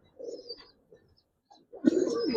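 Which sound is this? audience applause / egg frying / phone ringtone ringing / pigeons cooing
pigeons cooing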